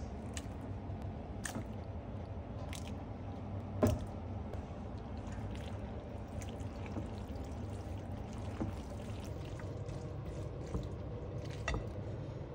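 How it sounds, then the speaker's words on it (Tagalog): Cold water pours steadily over cooked macaroni in a strainer as the pasta is rinsed and drained, a continuous close splashing trickle with a few louder drips and splats throughout. "Rinse with cold water to stop the cooking process, drain well, and combine with the meat sauce."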